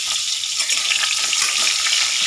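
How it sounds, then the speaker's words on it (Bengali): Pointed gourd pieces fry in hot oil, giving a bright, constant close sizzle and crackle with light stirring. "এই তেলে আমি কিন্তু পটলগুলো দিয়ে এখন ভেজে নেব।"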